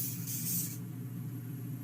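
A short hissing burst of face mist from an aerosol can, sprayed close up for under a second, then fading into quiet room tone.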